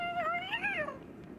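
A cartoonish cat meows once in the game Yes, Your Grace, a single rising-and-falling call about a second long, close and clear over a faint background hum.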